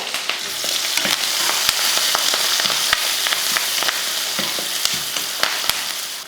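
Oil sizzles and crackles loudly and continuously, with sharp pops and spits as onions and curry leaves, with mustard seeds, fry in a hot pan.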